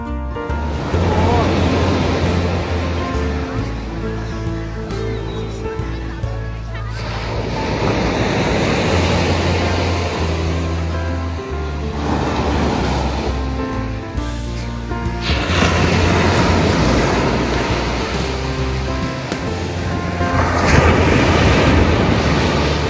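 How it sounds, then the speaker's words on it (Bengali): Sea waves breaking on Crystal Crescent Beach near Halifax, Nova Scotia, loud rolling surges rising and falling every several seconds, with heavy wind buffeting the microphone and no clear talk. "এই সমুদ্রের জলের ঢেউয়ের আওয়াজটা শুনতে চরম লাগে।"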